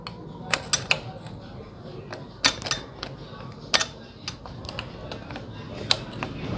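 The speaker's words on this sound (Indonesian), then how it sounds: "Kita congkel dulu ya pakai obeng min." Flathead screwdriver prying open a clip on an engine part during cylinder head and valve work, giving a series of sharp metallic clicks and scrapes at irregular intervals, close and fairly quiet.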